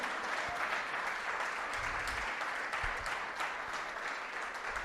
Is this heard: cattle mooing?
no